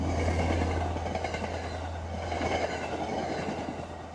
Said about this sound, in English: And that's a train.